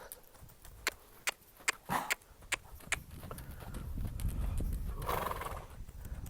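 A horse being long-lined walks with a run of crisp, evenly spaced hoof clops, then gives a loud neigh and whinny that carries on over the hoofbeats.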